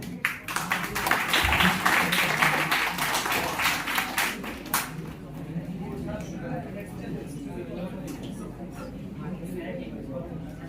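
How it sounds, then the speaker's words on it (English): A seminar audience claps to welcome a guest speaker, loud dense applause for about five seconds that tapers into murmuring room noise and scattered claps. "with a huge round of applause"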